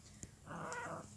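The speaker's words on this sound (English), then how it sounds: "my cat is attacking me" A cat attacking its owner gives a short, close growling yowl, one brief snarl under a quiet indoor room with no talking.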